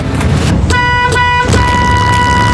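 A school bus sounds its horn loudly and close by, two blaring honks in a row, the second held longer, over a steady engine rumble.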